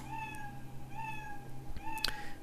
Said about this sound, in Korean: 결과적으로 10번의 야옹 소리를 우리가 들을 수 있게 되는 겁니다